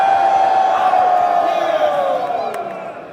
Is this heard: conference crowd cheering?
yes